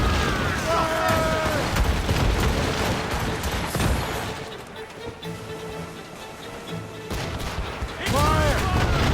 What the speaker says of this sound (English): They're firing a volley!